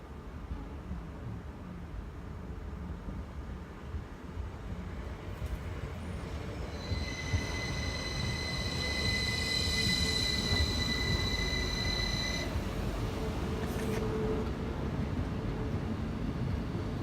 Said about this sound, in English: in now is another 333 unit terminating here at Bradford Forster Square.